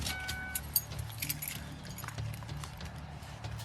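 Car keys jangle briefly while being handed over at a police traffic stop on a wet, rain-soaked road, with low vehicle rumble behind.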